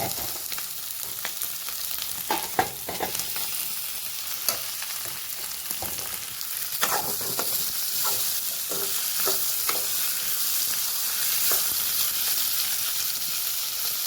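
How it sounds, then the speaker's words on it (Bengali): Chopped tomatoes go into a pan of fried potatoes, giving a loud steady sizzle with stirring scrapes and clacks of a utensil against the pan throughout. "আর এখন এই টমাটোর কাটা দিয়ে দেবো, কাটানো টমেটো দিয়ে দেবো"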